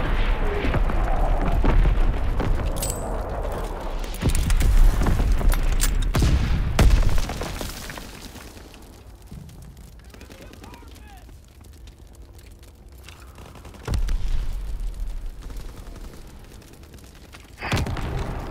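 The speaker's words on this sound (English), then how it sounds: "Firing division artillery." Artillery fire and explosions in the video game Call of Duty: WWII hit as loud booming blasts and gunfire, heavy at first, then easing into quieter rumbling before fresh impacts, with voices speaking amid the battle.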